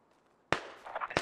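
Frag grenade blasts in a military shooter game, one sharp loud burst after half a second of quiet rumble, ringing debris, then a second sharp blast near the end.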